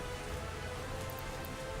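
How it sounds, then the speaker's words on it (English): Continuous rain hisses evenly in a video game, a dense, soft wash with no breaks. "it just started raining, so all the trucks started going slowly"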